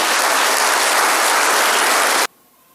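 Loud, dense applause from a church congregation fills the space for about two seconds, then cuts off abruptly into near silence.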